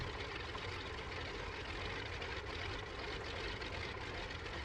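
Continuous droning of the Ford Trimotor's three propeller engines in Microsoft Flight Simulator, a steady, loud, broadband roar that holds evenly throughout without any talk.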